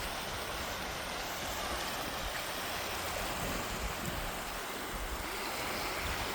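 Ocean surf washes continuously onto a beach as a broad, steady roar of breaking water, with no talk.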